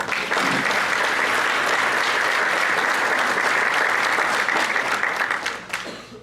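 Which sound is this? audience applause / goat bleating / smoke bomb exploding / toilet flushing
audience applause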